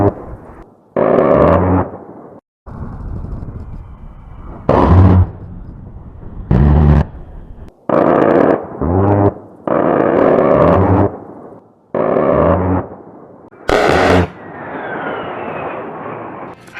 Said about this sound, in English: The cannon delivers about 50 rounds during the first second and 70 rounds per second thereafter.